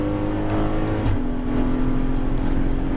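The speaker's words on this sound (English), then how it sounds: "accelerating for the main straight to get as much speed as possible" An Aston Martin GT4 race car accelerates hard on the Yas Marina Circuit, its engine note loud and close, with the pitch climbing steadily and a brief drop at a gear change.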